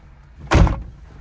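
A car door is shut once with a single solid thump, close and fairly loud, standing out against a quiet background in a car used for driving lessons.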